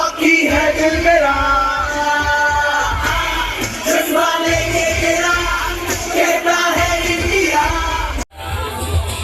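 Loud crowd yelling and whooping fills a hockey stadium, with dense overlapping voices and music-like tones running continuously, cutting briefly near the end before resuming.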